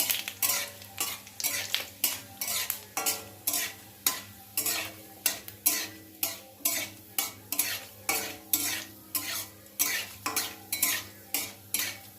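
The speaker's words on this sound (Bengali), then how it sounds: "তো তেল গরম আছে, এখন আমি দিয়ে দেব দুটো শুকনো লঙ্কা গোটা আর 5 ফোড়ন।" Two whole dried red chillies and panch phoron fry in hot mustard oil, with a steady, rhythmic scrape of a spatula against the pan about once a second over a light sizzle.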